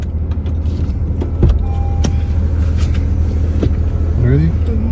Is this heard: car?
yes